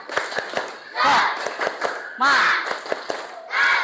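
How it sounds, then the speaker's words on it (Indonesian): Students in a classroom perform the tepuk semangat clapping chant: sharp rhythmic claps punctuated by loud bursts of voices shouting together, repeated three times. "saya minta kita tepuk semangat dulu yuk"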